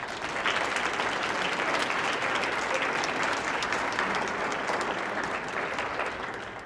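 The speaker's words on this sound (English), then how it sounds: "And if we could give those folks a round of applause." Sustained applause from a campus awards audience honoring student employees, a dense steady clatter of many hands that holds evenly throughout and eases slightly at the end.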